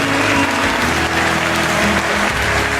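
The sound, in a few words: audience applause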